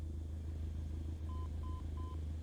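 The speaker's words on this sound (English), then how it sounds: "The Morse code you can hear is the Seaford VOR." Morse code identifier of the Seaford VOR beacon, sending its call letters in a flight simulator cockpit: three short steady tones, beeping evenly over a constant loud low engine drone, no talk.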